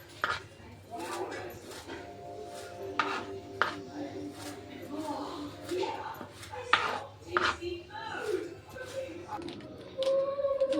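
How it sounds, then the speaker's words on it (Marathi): A knife chops coriander finely on a board in quick, irregular knocks close by, while voices talk intermittently over the cutting. "कोथिंबीर बारीक करून घेतली."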